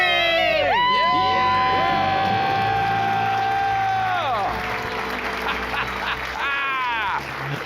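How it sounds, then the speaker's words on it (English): A family with kids shouts a loud, sustained debt-free scream together, high voices and whoops rising over a cheering crowd, followed by a second burst of yelling near the end. "Let's hear a debt-free scream."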